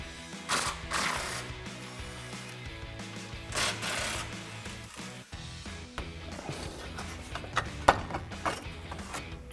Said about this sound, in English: I'm gonna take a 15mm socket to remove this